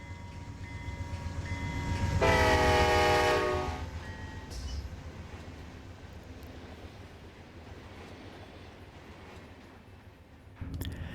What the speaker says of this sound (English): You can hear the individual carriages, you can hear the loco, you can hear everything.